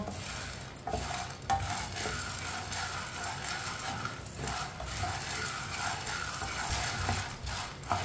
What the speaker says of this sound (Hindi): इसे ऐसे ही चम्मच चलाते हुए गर्म करना है